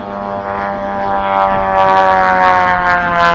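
A radio-controlled P-47 model warbird flies overhead, its engine giving a loud, sustained droning whine that swells slightly in pitch and volume as it passes.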